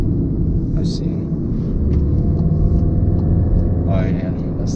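A Subaru WRX with an aftermarket exhaust pulls hard nearby, its loud, steady low rumble filling the scene with a brief rising surge near the end, while a voice speaks over the engine.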